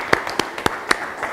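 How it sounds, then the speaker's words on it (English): A handful of sharp, evenly spaced claps ring out close by for a participant after a classroom design demonstration, brief and sparse rather than a full ovation. "Round of applause."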